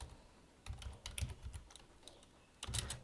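Keys on a computer keyboard are tapped while JavaScript code is typed, in quiet, irregular clusters of quick clicks with short pauses between them.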